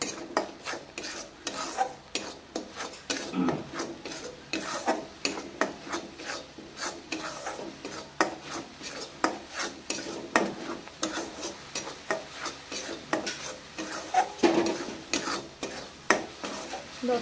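A spoon scrapes and stirs cumin and coriander powder in a pan for a small fish dish, giving steady rhythmic rasping strokes close up with a faint sizzle beneath and no talking.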